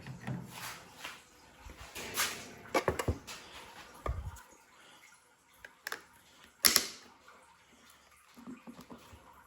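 Lids are put onto plastic cassettes of cut comb honey, giving close, quiet clicks and snaps mixed with soft handling rustles at an uneven pace.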